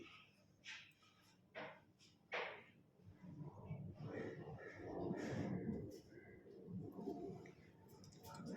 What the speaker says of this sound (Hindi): ये देखें, ये हमारा तोता, ये हमारी तोती।